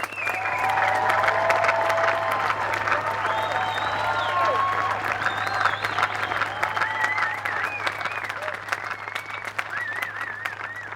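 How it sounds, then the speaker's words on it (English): Sustained applause for graduating students at a graduation ceremony, steady dense clapping throughout, with a low hum and some whistling tones faintly mixed in. "giving all of our graduates of 2020 a round of applause"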